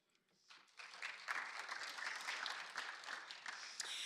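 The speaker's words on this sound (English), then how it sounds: "A round of applause for me." An audience at an East African digital innovation summit in Kigali claps. The applause is faint and distant, swells in after about half a second and then continues as a steady patter.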